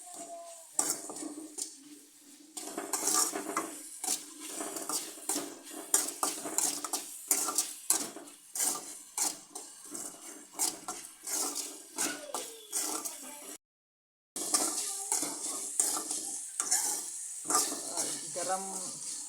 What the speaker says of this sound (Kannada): ಚೆನ್ನಾಗಿ ಹೊಳ್ಳಾಡಿಸಿ ಫ್ರೈ ಮಾಡಿ ಚೆನ್ನಾಗಿ